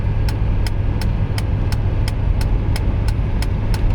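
A Mercedes 300CD diesel car engine drones in a steady, loud low rumble, with a regular ticking beat repeating about three times a second throughout.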